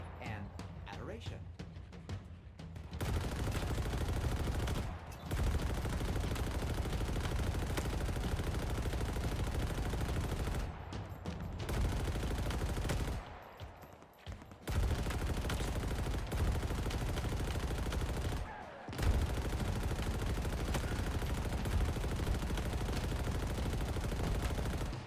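Continuous loud gunfire in Halo Infinite, sustained automatic bursts broken by a few short pauses, with voices heard in the clip.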